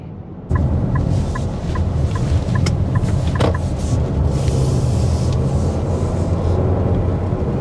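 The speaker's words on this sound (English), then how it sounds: "we're going to drive on a higher speed road" Inside a 2023 Nissan X-Trail moving on a higher-speed road, a steady low road and engine rumble fills the cabin, with a regular ticking in the first few seconds that then stops.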